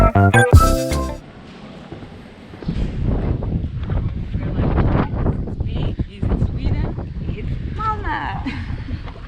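Strong wind buffets the microphone by the sea in Malmö, loud gusty rumbling that rises and falls while a person talks over it.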